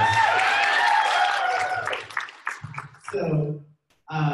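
Audience applause at a Dallas road tour event, a burst of clapping mixed with cheering voices that fades within a couple of seconds as talking takes over.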